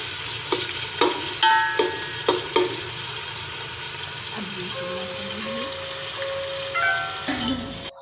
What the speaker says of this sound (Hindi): आप देखिए मैं प्याज को फ्राई कर रही हूँ